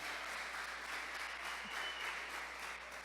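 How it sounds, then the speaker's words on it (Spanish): Steady applause from a church congregation, even and continuous, heard at a moderate distance. "¿Cuánto le dan un fuerte aplauso a Audiovisuales?"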